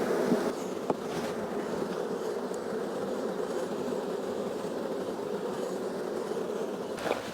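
Honey bees buzzing at an opened hive during an inspection, a dense, continuous drone close by with a few faint knocks from handling the frames and no talking.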